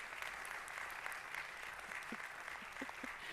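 A synagogue congregation applauds during a Shabbat service, steady dense clapping filling the room throughout at moderate distance, with no talk over it.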